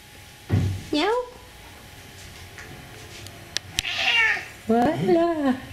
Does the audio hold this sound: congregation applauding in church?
no